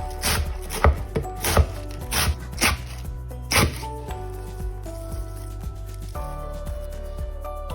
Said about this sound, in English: you need a quarter of a red cabbage and slice it thinly.